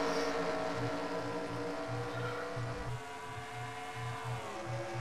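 Race cars at speed on the California oval in the iRacing sim, a steady massed engine drone with pulsing low tones as the field runs together, loud and continuous with no talk.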